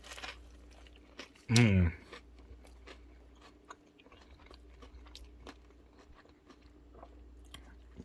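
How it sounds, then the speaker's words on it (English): A single loud crunchy bite into a crispy air fryer chicken sandwich, followed by quieter chewing and faint rustling, with a murmur of approval from the eater. "So let's go ahead and take a bite."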